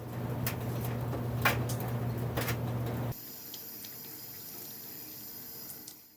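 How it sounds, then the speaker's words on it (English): Tap water running in a house, captured on an Instamic stereo mic: a steady hiss of flowing water with a low hum during the first half that stops abruptly midway, leaving a quieter, thinner trickle. "the other is the tap water running in my house"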